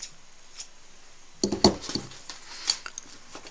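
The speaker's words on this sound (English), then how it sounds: "Just going to move my threads out of the way and cut them" Scissors snipping threads on a quilted bag during sewing: a few quick, crisp close-up clicks and snips clustered together, then one more sharp snip in an otherwise quiet room.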